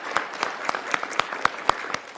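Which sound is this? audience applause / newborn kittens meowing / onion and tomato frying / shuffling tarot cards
audience applause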